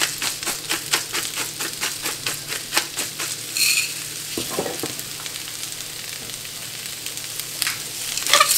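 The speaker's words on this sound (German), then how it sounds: "So, den braten wir ungefähr 5 Minuten an." Ingredients for a pasta salad sear in a hot pan with a steady sizzle, broken in the first half by a run of rhythmic, evenly spaced clicks and taps, then a softer continuous hiss.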